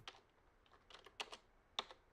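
Quiet keyboard typing in the video game Telling Lies, a handful of sharp, irregular key clicks spaced unevenly across a near-silent background.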